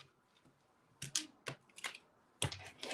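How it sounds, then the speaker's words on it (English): Tarot cards being cut and shuffled, producing a few quiet crisp riffling and slapping bursts spread across a soft, otherwise still background. "I know that my cut and shuffle is a little unorthodox"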